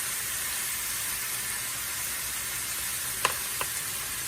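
Soy sauce and honey sizzle in a hot frying pan while pepper steak is cooked, a steady close hiss with two brief clinks near the end and no talking.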